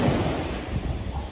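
Ocean surf rolls onto Karon Beach in Phuket, Thailand, as a steady broadband wash with wind rumble, close and continuous throughout, with no voices.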